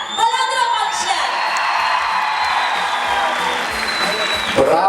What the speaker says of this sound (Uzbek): balandroq olqishlar